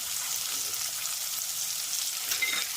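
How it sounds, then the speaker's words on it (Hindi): Asafoetida, green chillies and onion fry in a pan for radish paratha, a steady close sizzling hiss holding evenly throughout with no talk. "और उसके बाद मैं डाल दूँगी हरी मिर्च और प्याज। और इन सबको डालने के बाद मैं भून लूँगी"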